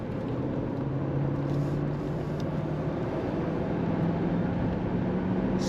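A 1999 Mercedes-Benz SL500 convertible pulls away with a smooth, low, steady engine hum under broadband road and wind noise, even in level throughout.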